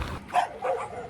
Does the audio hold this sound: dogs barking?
yes